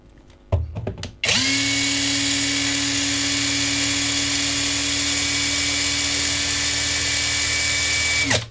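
A Dagmara TD172 impact driver at speed 2 gives a few brief starts, then spins freely with a loud, steady high-pitched whine that holds close and constant for about seven seconds.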